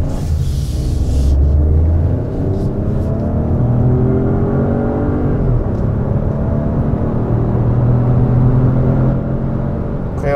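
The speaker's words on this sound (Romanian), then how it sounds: "acum trebuie doar să mai facem testul de frânare în condiții de siguranță" Citroën DS3 car during a braking test, a steady engine and road rumble with shifting tonal whine as it drives, loud and continuous without speech.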